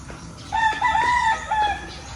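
A rooster gives one drawn-out crow, fairly close and loud over a quiet outdoor background.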